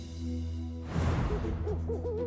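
An owl hoots in the dark, a few soft, low, wavering calls that follow a rushing whoosh, fairly close over a steady background drone.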